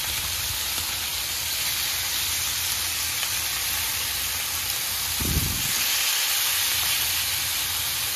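Chicken fries golden in a pan, giving a steady, loud bright sizzle and hiss throughout, with a brief low bump partway through.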